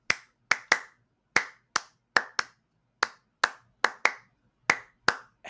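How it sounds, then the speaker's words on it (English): Hands clap out an uneven rhythm, about fifteen sharp close claps in loose groups over five seconds, loud and dry with silence between them. "I could clap, like in a rhythm"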